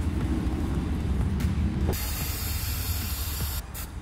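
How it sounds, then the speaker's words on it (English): A steady hissing spray from an aerosol can of spray adhesive, with a low mechanical rumble underneath and a brighter burst of spray partway through. "I'm just only going to put uh, spray adhesive on the one side."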